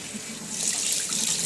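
Water pouring from a kitchen faucet into a sink while canned tuna is drained, a steady rushing splash that swells slightly and continues throughout without talk.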